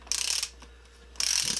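Two quick bursts of ratcheting clicks from a wrench turning a bolt on a Yamaha V-Star 1300 front fork, close and fairly quiet, separated by a short pause.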